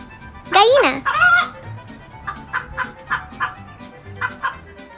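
A hen on a farm lets out a loud, rising call, then a run of short, evenly spaced clucks that continue close by with no one speaking.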